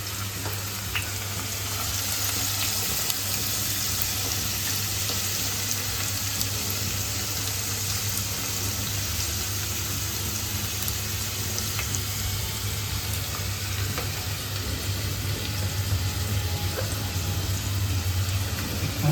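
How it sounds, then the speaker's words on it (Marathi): Hot oil sizzling in a pan during home pizza making, a continuous even hiss with a low steady hum beneath it, held close and constant for the whole stretch, with no voices. "आवाज आला गरम झालं तेल"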